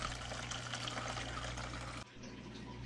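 Aquarium water draining through a siphon hose during a Fluval Flex saltwater tank setup, a steady close pouring and trickling rush that briefly cuts out and then resumes, with low hum beneath.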